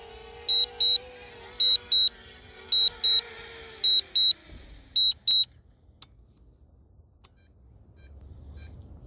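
A drone lands to a repeated pattern of paired high beeps sounding at a regular pace, five pairs over a low motor whine that winds down and stops, leaving scattered clicks and quiet.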